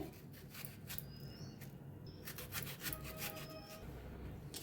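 Knife slicing through eggplant in a home kitchen, a faint series of short scraping, rasping cuts spread across the clip, quiet and close with no speech.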